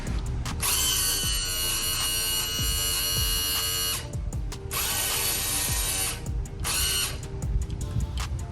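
A failing Mercury outboard power trim motor, its housing rusted through, runs in loud whirring, ratcheting bursts that cut out briefly and restart, with no speech.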